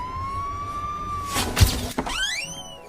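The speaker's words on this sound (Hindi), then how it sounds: "वो दे एम्बुलेंस आगे काका" An ambulance siren wails, one long steady tone, then a thud and a rising, sweeping siren as the vehicle draws close, with no talk over it.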